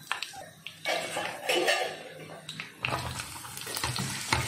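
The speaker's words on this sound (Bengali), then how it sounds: "কুচিয়ে রাখা যে পেঁয়াজটা ছিল সেই পেঁয়াজটা কিন্তু আমি দিয়ে দেবো।" Chopped onions go into hot oil in a kitchen pan, giving a soft crackling sizzle broken by clattering utensil and pot knocks, fairly quiet and close.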